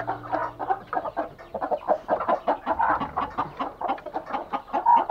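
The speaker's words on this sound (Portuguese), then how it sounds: "Olha que galo bonito." A rooster of the giant Indian game breed clucks repeatedly on a rural farm, a steady run of short, close calls with no talking.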